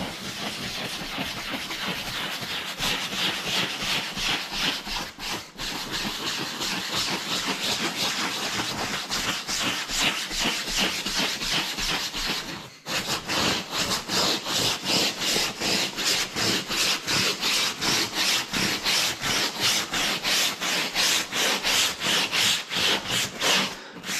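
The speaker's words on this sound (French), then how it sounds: "On va frotter maintenant." Hand scrubbing a surface in circles with ox gall soap and a little water, a loud rhythmic rubbing swish repeating in quick regular strokes throughout, close up with no speech.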